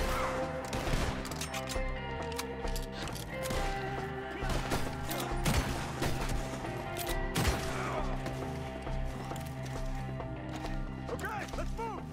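A loud shootout in Red Dead Redemption 2: dense bursts of gunfire crackle almost continuously, layered with horse hooves and game noise, while voices shout throughout.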